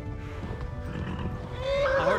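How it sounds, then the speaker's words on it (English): A horse whinnies near the end over rapid hoofbeats, while a voice talks over the galloping in the video game Kingdom Come: Deliverance. "My horse is gonna kick me off."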